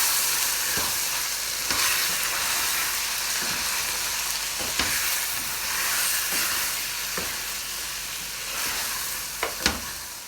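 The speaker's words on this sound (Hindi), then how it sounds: "अब हम इसी तरह 5 मिनट तक इसको और भूनेंगे" Meat sizzling and frying in a pot with home-made achari masala and red chili powder for achari gosht, a steady loud hiss with occasional stirring clatters, no voices.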